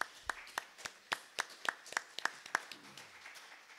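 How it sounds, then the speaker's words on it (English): A small Sunday church service congregation claps sparsely: about a dozen distinct, separate hand claps in a loose, uneven rhythm, fairly quiet and close, with no talking over them. "Why don't we give Susyn a big round of applause for that?"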